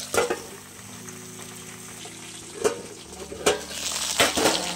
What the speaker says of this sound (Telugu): కొద్దిసేపు వేగనిద్దాం మూత పెట్టుకుని.